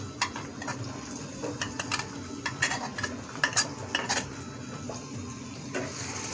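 Finely chopped onion and garlic frying in about three spoons of oil in a pan give a steady sizzle, broken by sharp clicks and scrapes of a spoon stirring against the metal, close and fairly loud.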